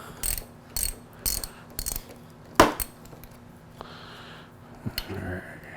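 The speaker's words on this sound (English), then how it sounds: "So now we gotta loosen this bolt." A hand ratchet loosens a roughly 10mm bolt on the clutch lever of a Yamaha R3 motorcycle, giving several short clicking bursts up close, followed by quieter handling noises.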